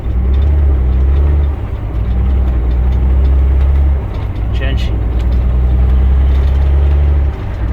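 A heavy Freightliner Argosy truck with SmartShift, driven in manual mode, drones loudly up close, its low rumble dropping and rising as the driver taps up through the gears around 1500 rpm, with someone talking over it.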